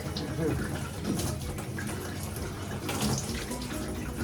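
Water runs from a newly hooked-up faucet into a shop sink, a steady splashing hiss, while someone talks intermittently over it.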